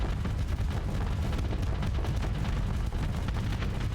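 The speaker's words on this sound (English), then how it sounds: "the explosion from the Reaper torpedoes is large enough to actually hit this" Reaper torpedoes exploding against a station hangar in the space combat game Starsector, a dense, continuous barrage of deep booming blasts and rumbling detonations, loud and sustained with no voices over it.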